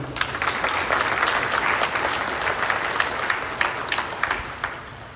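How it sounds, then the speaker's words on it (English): An audience at a ribbon cutting for the Oasis reopening breaks into a steady round of applause, dense clapping sustained for the full stretch and tapering slightly at the end. "Let's give them a round of applause"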